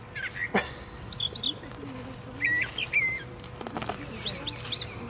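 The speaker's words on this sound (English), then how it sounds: "We get to listen to those birds singing too when we're down here." Several birds chirp and whistle in short, scattered phrases over a low outdoor hum in a community garden in Heber Springs, Arkansas, some calls near and others fainter in the distance.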